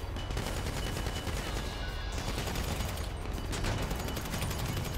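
Dense, sustained gunfire in GTA Online, a steady wall of rapid shots and bursts running the whole time at constant loudness with no talk over it.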